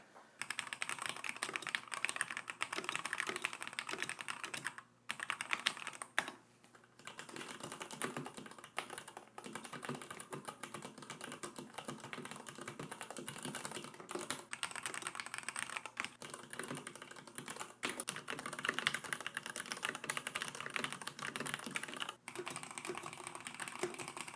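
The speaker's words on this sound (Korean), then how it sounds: "분명히 같은 체리 적축 스위치인데 소리도 다르고 키감도 많이 다릅니다." Steady, rapid typing on a Leopold FC900R PD mechanical keyboard with Cherry MX Red switches, keys clacking continuously for about twenty seconds with only brief pauses, close and fairly quiet.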